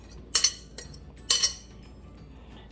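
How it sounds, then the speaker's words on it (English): Bread pudding scooped into a butter-greased baking pan, heard as a few sharp clinks of utensil against pan in scattered bursts, fairly close in a quiet kitchen with no talk. "So I'm going to transfer this into my baking pan."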